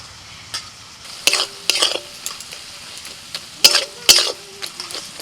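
A spoon scrapes and stirs grated radish mixed with a paste of two kinds of mustard and green chilli in a pan, giving several sharp clacking strokes over a faint sizzle, close and clear with no talking.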